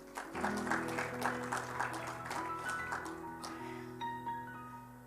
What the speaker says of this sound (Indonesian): Saudara boleh kasih tepuk tangan untuk Raja Daud.